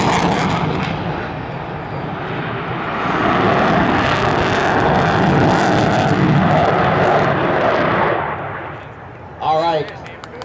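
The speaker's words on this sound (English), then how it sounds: "another little low pass there by Mace in the F-16 Fighting Falcon" An F-16 Fighting Falcon jet making a low pass at an air expo at Joint Base Lewis-McChord, a loud broad roar that swells in the middle and fades, with a voice talking over the PA near the end.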